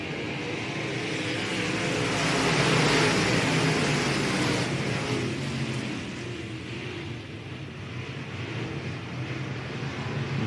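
A pack of race cars roars around the track on opening night, their engines forming a sustained, blended drone that swells to a peak and then eases slightly while the field runs after the green-flag restart; no talking.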